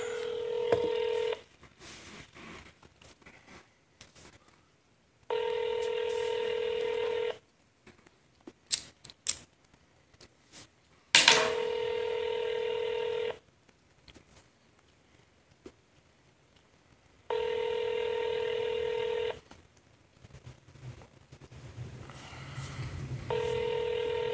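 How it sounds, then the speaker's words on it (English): A telephone number is dialed with short touch-tone beeps, and then the line rings in long, evenly spaced tones over a call broadcast live on radio, with a few clicks between the rings. "Let's give Uncle Lou a call, see if he'll answer the damn phone."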